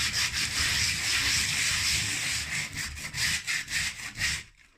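Abrasive sanding on a textured ceiling patch, a close, steady scratchy rubbing that breaks into quicker back-and-forth strokes before stopping abruptly.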